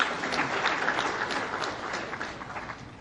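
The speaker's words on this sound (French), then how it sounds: "que je vous demande d'applaudir" Sustained applause from an audience at an international colloquium, steady and dense throughout without pause.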